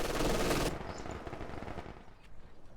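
Support weapon gunfire in Company of Heroes 2, a loud dense burst of machine-gun fire for under a second, then fading into a rattling, distant battlefield din of scattered shots.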